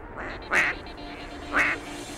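Ducks quacking during a waterfowl hunt in Alberta: two separate short, raspy quack calls about a second apart, fairly near, over a quiet outdoor background.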